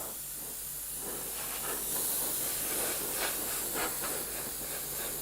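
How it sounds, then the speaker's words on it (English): Compressed air sprays steadily onto the heated bed of a Prusa MK3 3D printer to cool it, a continuous close hissing rush that swells slightly in the middle and holds for several seconds with no talking. "I think at 31, I'm probably going to run out of compressed air here."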